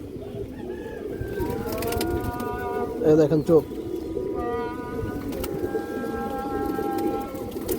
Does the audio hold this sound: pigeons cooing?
yes